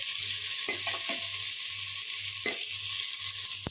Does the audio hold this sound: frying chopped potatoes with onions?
yes